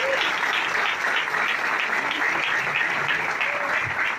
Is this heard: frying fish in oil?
no